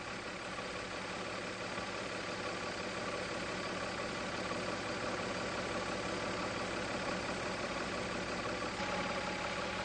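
A Mazda MX-3 engine idling during a tune-up, a steady even hum with a faint mechanical whir, constant and moderately quiet with no change in speed.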